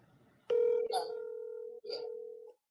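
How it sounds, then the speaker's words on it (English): Outgoing telephone call ringing back through the line, two long steady ring tones separated by a short gap, clear and alone. "Are you guys able to hear the ringing?"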